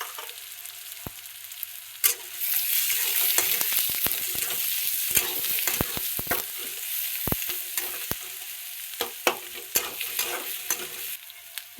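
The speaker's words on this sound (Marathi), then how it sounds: "आता कांदा टाकला बघा, मस्त तेलात फ्राय करायचं बघा ते." Onion hisses in hot oil in a home kitchen, a bright continuous sizzle that swells after a sharp clack and is punctuated by scattered spoon taps and scrapes, close up with no voices.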